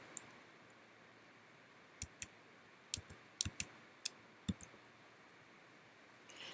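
Sparse, light keystrokes on a computer keyboard, a few isolated taps and short clusters against a quiet room, with no talk.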